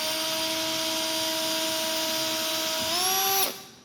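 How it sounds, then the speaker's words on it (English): Power drill with a 3/32 bit boring pilot holes into a guitar neck pocket: a steady motor whine that rises in pitch near the end before cutting off, close and loud with no talk. "And then I'm gonna take a 3/32 drill bit, and I'm just going to drill down 1 1/4 inches."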